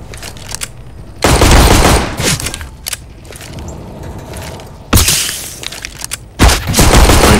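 Gunfire in CS:GO Danger Zone: loud bursts and single shots crack in clusters across the moment, with quieter mechanical handling noise between them and no talking.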